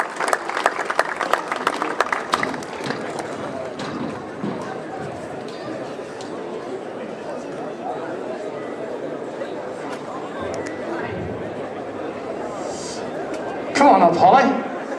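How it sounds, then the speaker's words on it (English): A crowd claps for a rally crew at the ceremonial start of the Donegal International Rally, with a burst of applause early on that fades into open-air crowd chatter while a voice talks over it. "Give the boys a round of applause as we wish them the best of luck."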